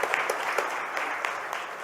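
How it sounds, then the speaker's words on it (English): Audience round of applause after a motivational Q&A session in Surat, a brief, dense wash of clapping from a crowd, steady and moderately loud for under two seconds. "Let's give him a big round of applause"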